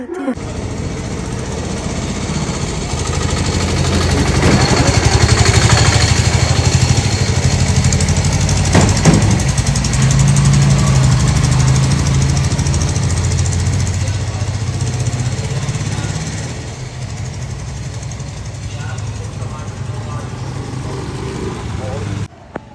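A small scooter engine runs close by, revving up loudly and then settling to a steadier, quieter idle near the end.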